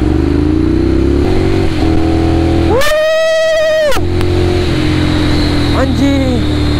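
Ducati Monster 795 motorcycle engine revving hard on a test ride, a loud close roar rising and falling through several throttle blips, with a steady rumble between and brief voices.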